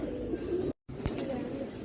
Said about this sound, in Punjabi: ਇਹ ਪਾਕਿਸਤਾਨ ਦੇ ਕਬੂਤਰ ਨੇ